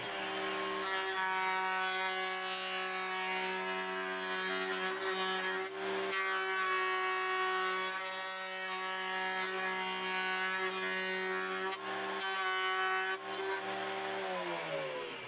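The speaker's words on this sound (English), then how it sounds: "I can fire it up and flush trim the piece" A router table runs steadily with a loud whine while the bit flush trims wood, the pitch dipping briefly a few times as it bites.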